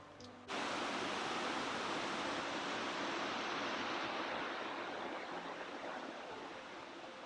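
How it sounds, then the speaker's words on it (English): Fagumfossen, a 700-foot waterfall plunging into a Norwegian fjord, gives a steady, dense roar of falling water that starts abruptly and continues unbroken, easing slightly toward the end. "This one is Fagumfossen, one of Norway's highest waterfalls at 700 feet."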